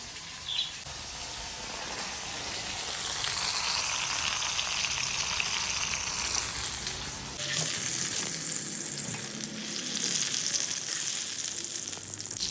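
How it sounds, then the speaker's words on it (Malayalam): Shrimp frying in a pan give off a steady, close hiss of sizzling oil. Stirring or a water splash briefly shifts the sound partway through, and no one speaks. "അപ്പം നമ്മൾ ചെമ്മീൻ നല്ല സൂപ്പറായിട്ട് ഫ്രൈ ചെയ്തിട്ടുണ്ട്."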